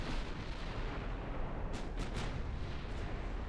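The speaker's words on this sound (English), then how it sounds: "We've got 4 battleships firing at him with all guns." Battleship main guns firing in a naval warfare video game, four ships firing all guns, heard as a dense, continuous rumbling barrage with several sharper blasts standing out midway and near the end.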